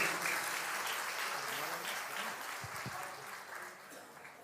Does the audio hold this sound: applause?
yes